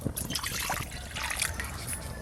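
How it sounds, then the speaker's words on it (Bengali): Water pours steadily into a pan in a home kitchen, ready for boiling eggs and young jackfruit, making a continuous close trickling splash for about two seconds with no talking. "জল"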